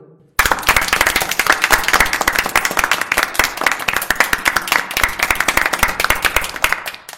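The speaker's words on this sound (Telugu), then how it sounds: "గట్టిగా చప్పట్లు కొట్టురు" Loud, dense applause from an audience at a comedy stage program bursts in after a brief quiet start and continues steadily for about seven seconds with no talking.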